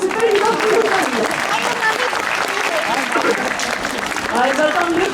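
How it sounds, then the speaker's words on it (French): An audience at a sea lion show at Plaisance-du-Touch zoo claps steadily and densely throughout, the applause near and sustained while a voice speaks over it. "Et vous pouvez les applaudir"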